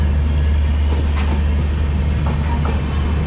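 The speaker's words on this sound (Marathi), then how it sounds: "हे कुठली ट्रेन आहे? कोइंबतूर." A Coimbatore express train rushes past close by, with a loud, continuous rumble of wheels and carriages for the whole stretch.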